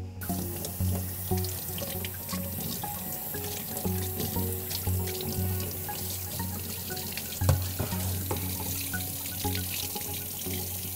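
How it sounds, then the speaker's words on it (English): Cold tap water running into a sink while dyed fabric is rinsed under it, a steady close splashing flow with occasional louder splashes and handling knocks. "So I'm gonna come wash it in cold water."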